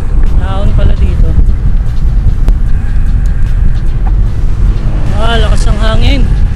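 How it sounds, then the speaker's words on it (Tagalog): Strong, cool wind near Tagaytay, Philippines buffets the microphone with a loud, constant roar, while voices speak briefly beneath it. "Lakas ng hangin."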